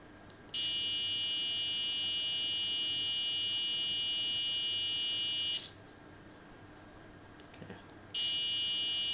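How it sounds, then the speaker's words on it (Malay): A loud electronic buzzer on a servo-driven safety gate project sounds in a steady high-pitched drone for about five seconds, stops, then starts again after a short pause. "kita tekan button A dan servo bergerak dan buzzer berbunyi"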